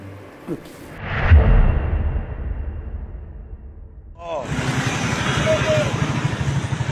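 Motorcycle carrying a woman transporting tomatoes, its engine rumbling and whooshing past at close range, fading and then swelling again under a man's speech.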